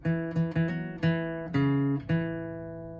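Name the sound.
acoustic guitar solo lick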